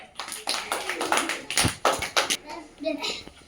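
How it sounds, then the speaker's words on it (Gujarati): Children in a classroom give a short burst of clapping, several quick irregular claps at close range, mixed with a teacher's voice and children's chatter throughout. "શાબાશ વાહ ભાઈ તાળી પડે ભાઈ"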